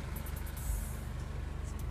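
Idling 2012 Scion tC engine running close by, giving a steady low throbbing hum with an even pulsing rhythm and no talking.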